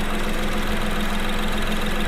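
A steady, even third-generation Mini Cooper 5-door engine idle close by, a constant low rumble with a mechanical hum and no variation or voices.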